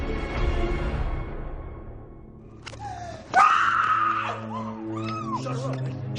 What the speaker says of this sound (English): She screams